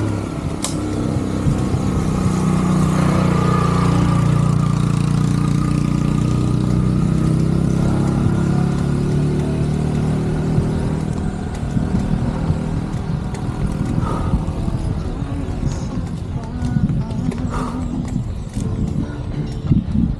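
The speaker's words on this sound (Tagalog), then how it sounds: "Motor." A motorcycle engine labours on a long, steep uphill climb, a loud steady drone that thins out later with scattered clunks and road noise.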